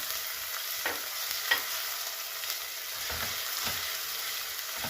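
Onions sauté in oil in a pan for an okra dish, a steady hissing sizzle with a few soft stirring scrapes, close and even, without any voices.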